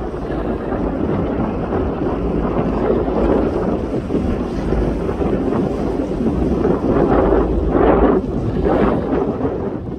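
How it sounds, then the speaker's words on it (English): Aboard the MV Coho ferry between Port Angeles and Victoria, British Columbia, a loud, steady engine rumble blends with wind buffeting the microphone throughout, with no talking. "very cool ride on the MV Coho from Port Angeles to Victoria, British Columbia"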